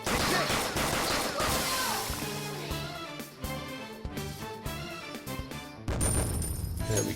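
Dense, continuous gunfire in the Persona 5 Royal video game, heavy bursts layered over a loud game soundtrack, with a sharp new volley near the end.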